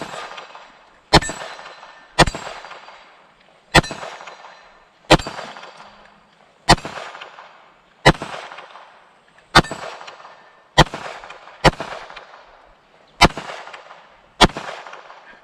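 Pistol shots from a Palmetto State Armory Dagger fitted with a budget Glock trigger strike a steel plate target outdoors: eleven sharp, loud cracks at a spaced, irregular pace, each followed by a ringing decay.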